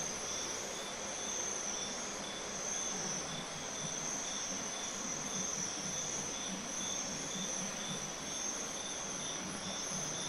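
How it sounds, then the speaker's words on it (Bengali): The Periyar river flowing below at night, a constant rushing wash heard from a distance, with crickets chirping in a steady high trill over it. The sound is soft and even, with no voices. "নিচ দিয়ে নদী বয়ে যাচ্ছে"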